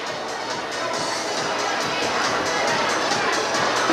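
Crowd of parents at a kindergarten graduation ceremony clapping and cheering together, a steady dense roar with children's shouts mixed in and voices underneath throughout.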